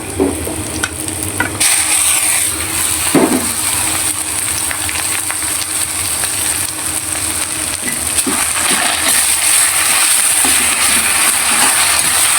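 Jute greens are poured into a hot pan and stirred, giving a steady loud sizzle with scraping spatula strokes and occasional clatters throughout, no voices present.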